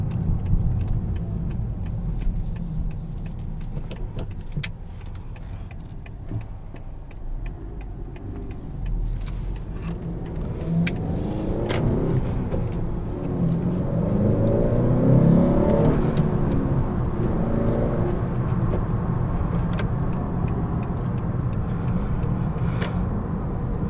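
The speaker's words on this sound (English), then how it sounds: "Extremely easy to heel toe rev match." A 2018 Honda Accord Sport 2.0T with a manual gearbox hums at cruise, then its engine rises in brief blips around a downshift, heard from inside the cabin, moderately loud with road whir beneath.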